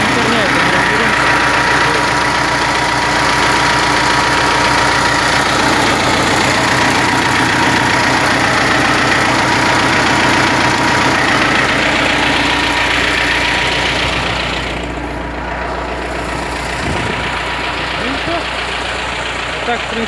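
A T-40 tractor engine idles steadily after its first start following winter, a loud close diesel chug with a knocking rhythm that eases slightly near the end, with a voice speaking over it.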